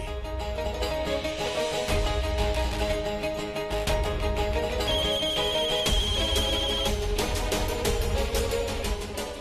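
A musical phone ringtone plays loudly and steadily close by, looping its melody for several seconds with no voices.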